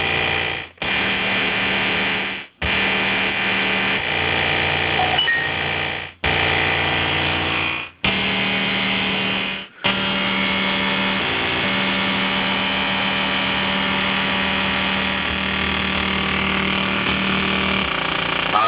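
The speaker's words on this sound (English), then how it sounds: "Polivoks filter from Analog Craftsman. Add some grit to your modular." Analog Craftsman Polivoks filter module in a modular synth, adding grit to a noise source: a loud, dense, distorted filtered noise that cuts out in several brief gaps early on, then runs on steadily with no talking.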